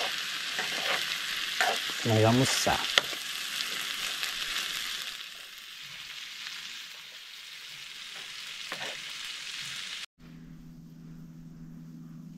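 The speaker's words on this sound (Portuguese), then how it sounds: "agora tá no jeito, fritando ele aqui." Okra sizzling and frying in a pan at a rainy riverside campsite, a steady close hiss with occasional stirring scrapes, briefly under a few spoken words, before cutting to a quieter scene with a low hum.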